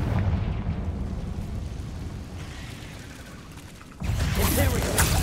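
A Confringo blasting spell explosion in the video game Hogwarts Legacy: a rumbling blast that fades, then a sharp burst of crackling impact near the end, loud and close.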